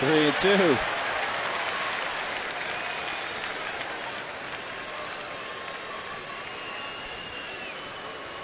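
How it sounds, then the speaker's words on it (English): A baseball crowd gives derisive courtesy applause at an Atlanta at San Diego game, a steady wash of distant clapping across the stadium that goes on for several seconds after a commentator speaks briefly at the start. "you can get some derisive applause if you don't throw strikes"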